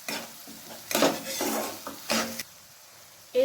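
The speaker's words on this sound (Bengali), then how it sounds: "এরপর টমেটো বাটাটার সাথে ভালোভাবে মিক্স করে নিতে হবে।" Spices being stirred into a tomato paste in a pan over low flame, with soft scraping and sizzling swells and a few louder utensil strokes against the pan, close and steady with no talking.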